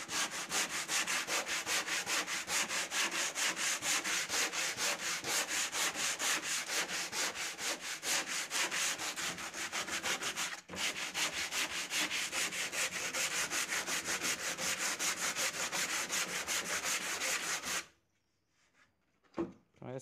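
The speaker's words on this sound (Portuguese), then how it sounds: "Um pedaço de madeira, enrola-se a lixa," Wood hand-sanded with 60-grit sandpaper wrapped around a block, a fast steady back-and-forth rasping that continues loud and close, then stops and leaves a brief near-silence with a couple of small knocks.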